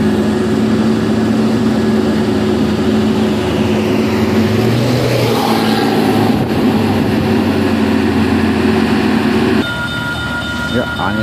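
A truck engine idles steadily on a hill with a low, constant drone, then shifts into a different running note partway through. Voices talk over the engine.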